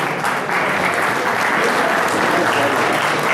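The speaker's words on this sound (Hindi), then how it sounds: "तालियां बजती रहनी चाहिए।" Steady, dense audience applause at a Lions Club Sujangarh charter presentation and installation ceremony, loud and sustained without a break for the full stretch.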